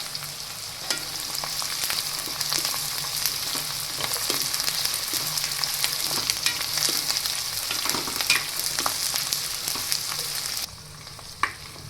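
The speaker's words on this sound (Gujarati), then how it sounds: "આ બધી વસ્તુને આપણે તેલમાં ચડવા દેશું." Onions and cashews frying in oil for a matar paneer gravy: a steady, fairly soft sizzle with frequent light stirring clicks and scrapes, continuous throughout with no talk.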